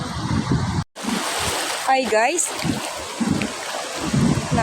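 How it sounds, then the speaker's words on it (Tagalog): Big, strong ocean waves wash onto a beach in Eastern Samar. The surf is a loud, continuous roar that carries through the whole clip, with a brief greeting spoken over it. "Ang lalaki guys ng alon at ang lalakas."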